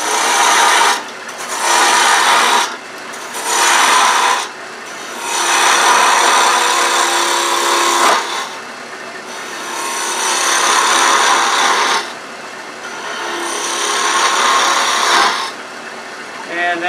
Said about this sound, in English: I'm going to use my 3/8 inch spindle gouge and start that shape down